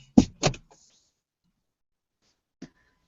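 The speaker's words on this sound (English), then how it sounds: "somebody was knocking on my car door" Knocking on a car door heard from inside the car: two quick loud raps close together near the start, then a single fainter tap about two seconds later, with quiet in between.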